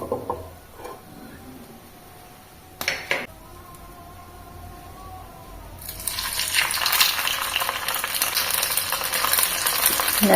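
Oil is spread on a hot tawa set over a gas stove while cooking semolina. Faint stirring and clatter give way to a loud, steady sizzle that builds over the second half and fills the sound.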